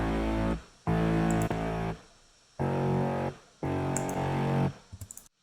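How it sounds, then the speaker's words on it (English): A gritty bass synth processed through Decapitator distortion plays in chopped, sidechain-style bursts, four loud sustained buzzing notes separated by abrupt gaps, ending in a few quick stuttering hits, with no voice present. "Then I have a decapitator for some distortion."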